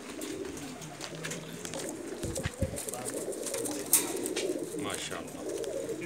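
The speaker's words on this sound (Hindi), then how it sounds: "ये लाखे कबूतर हैं" Lakha pigeons give soft, low coos close by, quiet against a background of chirps and small rustles, with a couple of low thumps midway.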